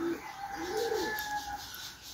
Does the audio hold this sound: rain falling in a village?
no